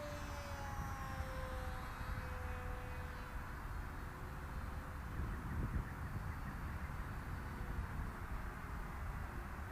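Rambler RS radio-controlled model plane flying, a faint thin motor whine drifting in pitch at a distance over steady wind noise.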